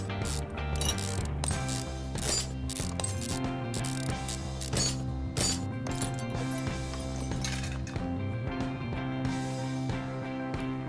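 Rapid ratchet clicking from undoing engine cylinder head bolts in the Car Mechanic Simulator 2015 video game, repeated bursts over a steady game soundtrack, with no talking.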